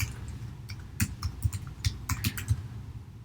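Keys clack on a computer keyboard as an email address is entered in Apple Mail, about a dozen quick, light taps in an uneven rhythm, close and fairly soft with no talking.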